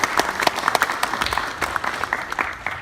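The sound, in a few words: wedding guests applauding the bridal party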